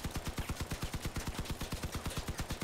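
Rapid sustained gunfire pouring into a Mammoth in the vehicle combat game Crossout, an unbroken, evenly paced stream of loud, close shots.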